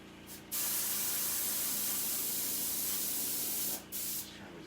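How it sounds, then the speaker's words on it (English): An airbrush sprays acrylic paint at fairly high pressure through a small regulator, giving a loud, steady hiss that starts abruptly, holds for about three seconds, then cuts off and briefly resumes, with no voices. "I'm spraying kind of high pressure"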